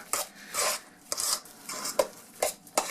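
A spoon scrapes and stirs against the bottom of a bowl, working cream into a mixture: repeated short scraping strokes in an uneven rhythm, close and moderately loud, with no talking.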